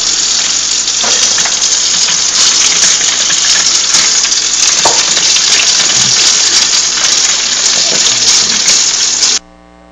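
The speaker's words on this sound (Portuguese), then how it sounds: "Já faz uns 10 minutos que a gente está deixando correr a água na torneira para ver se melhora." Tap water running steadily from a faucet, left open for a long time to see whether supply improves; a loud, continuous broadband gush close by that cuts off abruptly near the end.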